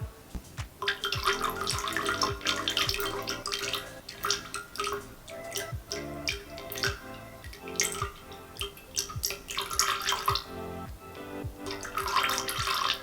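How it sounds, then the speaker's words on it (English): Fragrance oil being poured into melted soy candle wax, a steady liquid trickle and splash with dripping, close and continuous throughout, punctuated by small taps. "once you pour your fragrance oil in, stir that for about 60 seconds"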